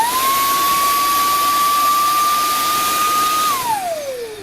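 HiKOKI RA18DA cordless mini blower running, a loud steady high-pitched whine that holds for a few seconds, then winds down in pitch as the motor slows.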